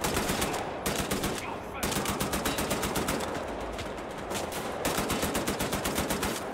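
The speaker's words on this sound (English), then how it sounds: "Just shoot randomly in that direction. You're bound to hit someone." Sustained rapid machine-gun fire in Wolfenstein: The New Order, loud and continuous with steady rhythmic bursts and only brief gaps.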